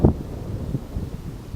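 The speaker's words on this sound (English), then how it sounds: "it's a little windy out here" Wind blows outdoors on a walking trail, a low, buffeting rumble against the microphone with a strong gust at the start and softer gusts after.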